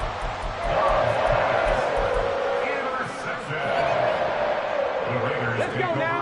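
A football stadium crowd roars after an interception, a broad sustained wash of cheering with a rise and dip, under continuous commentary.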